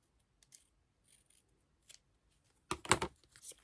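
Scissors snip through paper for a Halloween scrapbooking page, a few faint, sparse cuts followed by a louder, closer burst of quick snipping, with no talking.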